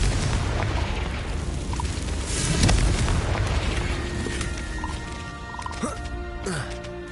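A Confringo fire spell explodes in the video game Hogwarts Legacy, a booming blast that swells midway through a dense bed of ongoing game effects and music.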